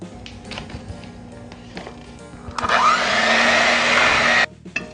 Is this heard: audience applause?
no